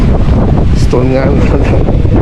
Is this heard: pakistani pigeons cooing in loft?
no